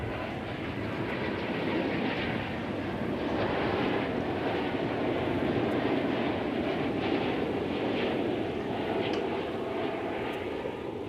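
Boeing 777 jet at DFW Airport, a steady broadband engine roar holding loud and even for the whole stretch, with no talk over it.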